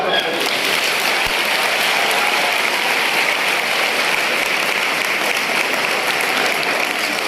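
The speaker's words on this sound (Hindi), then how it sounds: "एक बात पे ताली हो जाए।" An audience at a student gathering breaks into steady, dense applause that fills the room and holds at an even level from start to finish.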